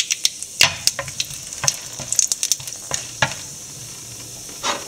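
Dried red chillies sizzle in hot oil for Kerala-style coconut chutney, a steady low fry broken by scattered sharp pops and scraping stirs over about five seconds, close and moderately quiet with no voices.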